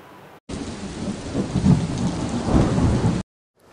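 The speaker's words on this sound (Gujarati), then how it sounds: "અમદાવાદમાં છેલ્લા એક કલાકમાં વરસી રહ્યો છે ધોધમાર વરસાદ" Heavy monsoon downpour in Ahmedabad with rolling thunder: a dense, loud, steady roar of rain with deep rumbles swelling and fading across the stretch, then a sudden cut to near silence.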